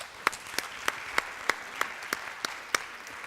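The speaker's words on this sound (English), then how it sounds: "A round of applause." An audience at a tech-week pitch event claps, heard as fairly quiet, evenly spaced sharp claps in a steady rhythm that carry on throughout.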